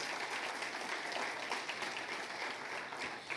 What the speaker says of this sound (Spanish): Un aplauso a Jesús, nuestro Salvador, nuestro Redentor